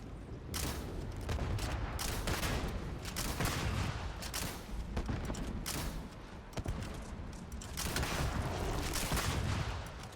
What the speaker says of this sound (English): More like a grenade launched than a shotgun, this, isn't it?